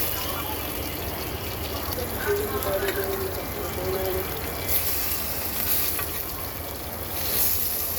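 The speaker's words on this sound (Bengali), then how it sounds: "মাছগুলো এখন ভেজে নেব" Rohu fish pieces, coated in ginger paste, frying in hot oil: a dense steady crackling sizzle, close and fairly loud, with a few faint clinks and brief bubbling bursts.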